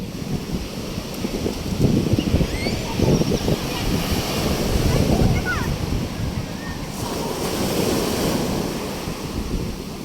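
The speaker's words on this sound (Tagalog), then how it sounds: "Ito na ang dagat." Ocean surf at Canyon Cove resort rolls in steady, washing swells under gusty wind buffeting the microphone, a continuous broad roar rising and falling every few seconds.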